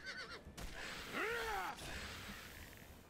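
A horse in the video game Oblivion gives one loud, rising and falling neigh lasting about half a second, sitting above a soft game backdrop.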